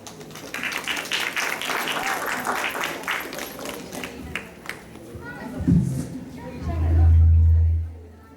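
Applause at a youth camp final presentation, a crowd clapping steadily in a dense patter for several seconds before it thins and dies away, followed by a loud low hum and a voice speaking.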